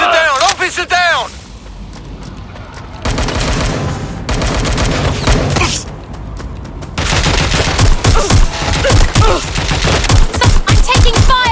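Heavy bursts of gunfire in Watch Dogs Legion, loud rattling volleys after a short pause, with shouting voices mixed in among the shots.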